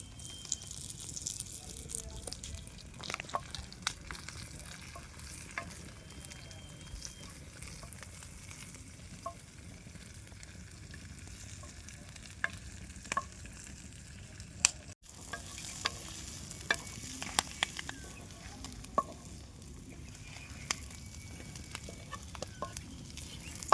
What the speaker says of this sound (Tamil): முருங்கீரை போட்டு வதக்கி குட்டி பேசிடணும்.